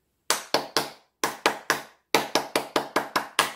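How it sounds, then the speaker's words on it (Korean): Rhythmic 3-3-7 group clapping at a seniors' health and laughter-therapy exercise session: three sharp claps, a pause, three more, a pause, then a run of seven, crisp and close. "이게 3, 3, 7 박수죠?"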